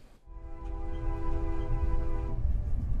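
Video game train horn blaring as a steady multi-tone chord for about two seconds, loud and sustained over low rumbling engine noise, then cutting off.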